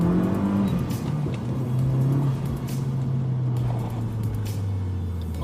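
Mazda 6 2.3 turbo car accelerating in first gear, heard from inside: a steady engine drone rising in pitch as it pulls, loud and close, with road and wind noise underneath.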